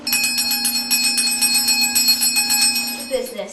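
A bell rings in a school play of Macbeth, a quick run of bright metallic strikes with a sustained ringing tone, fairly loud and close throughout.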